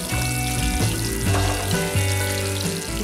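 Green chilies and chopped onion fry in hot oil with mustard seeds for a tomato curry, a dense, steady sizzle filling the pan throughout with faint clinks underneath.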